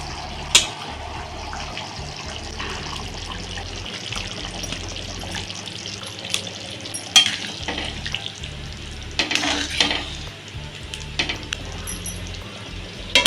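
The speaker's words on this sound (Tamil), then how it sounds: "குழம்பு ஒரு 7 நிமிஷம் கொதிக்க விட்டுருக்கேன்" A pot of tamarind curry with kidney beans and yam bubbling and simmering steadily on a gas stove, with sizzling and occasional clinks and pops, close up and with no one talking.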